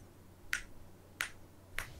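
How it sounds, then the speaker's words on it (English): Three sharp, isolated hand claps about two-thirds of a second apart ring out close and crisp against a quiet room. "you'll see us clap our hands"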